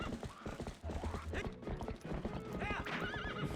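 A horse in a Zelda video game moves with rapid hoof clip-clops and gives a whinny near the end, sounding close and lively.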